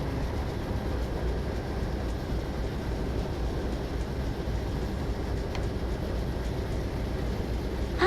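An Empire Builder passenger train coasts along in a train simulator game, giving a continuous low rumble and rolling hum at a steady level with faint clicks, no voices.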